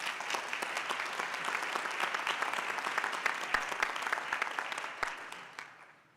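Sustained audience applause for award winners at a State Bar of Georgia annual meeting, a dense steady patter of many hands clapping for about five seconds before tapering off.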